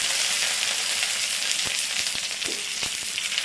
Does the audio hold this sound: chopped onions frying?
yes